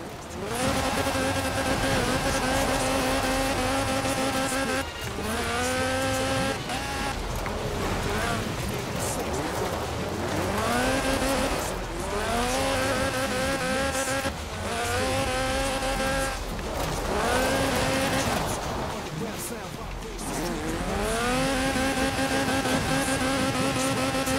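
Lotus Sunbeam with a 2.2-litre slant four-cylinder engine in Forza Horizon 4, revving hard and continuously through repeated upshifts, rising and falling in pitch, loud and close, with a voice talking over it.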